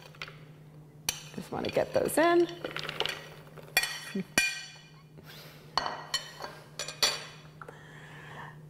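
Frozen cranberries clatter and clink as they are dropped into the plastic bowl of a Cuisinart DLC-8SBCY Pro Custom 11-Cup food processor, in several short bursts of hard rattling with pauses between, and a person briefly speaks.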